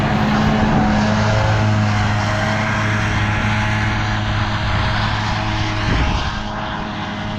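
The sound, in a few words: new tractor with new Krone mower mowing silage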